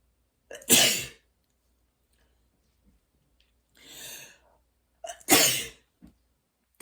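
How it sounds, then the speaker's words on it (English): One person sneezes, first a sharp, loud burst close up, then a softer breathy snort, then a second strong sneeze with a short catch of breath after it. "Hold on, I gotta sneeze."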